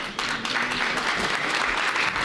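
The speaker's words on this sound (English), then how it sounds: "Applause. Can we just practice that," Audience applause at an awards ceremony, a steady, dense clapping from a crowd that holds at full strength throughout, loud and close with no talking over it.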